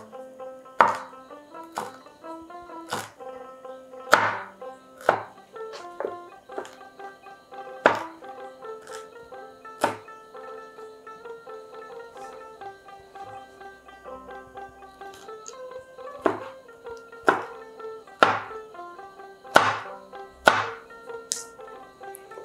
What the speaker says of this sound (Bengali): এবার ছোট ছোট ঝুড়ি ঝুড়ি করে কেটে নেব আমি চাটনি করার